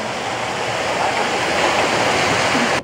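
A powerful waterfall roars continuously, a dense rushing of water close by, loud and steady before cutting off abruptly at the end.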